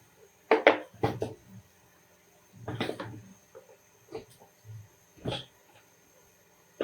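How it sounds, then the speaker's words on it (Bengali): Ingredients dropped one by one into a cooking pot, heard as four or five separate clattering thuds and scrapes spaced a second or so apart, with quiet gaps between them and no speech. "রান্নার হাঁড়িতে এক এক করে দিয়ে দিচ্ছি।"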